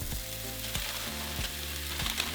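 Steady crackling sizzle of a burger patty frying in a hot pan, with a few soft taps and scrapes, close up.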